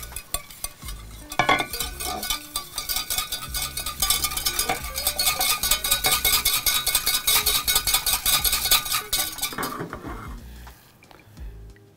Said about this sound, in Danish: Vi pisker herligheden sammen.